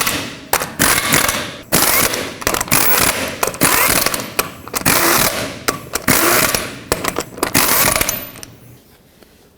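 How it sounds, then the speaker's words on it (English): Lug nuts being run onto the front wheel of a Chevrolet Express 3500 van with a ratchet, giving repeated close, loud metallic clicking and rattling bursts that continue for most of the stretch before fading near the end. "Start on all of your lug nuts, bottom them out, and then torque them to 140 foot-pounds"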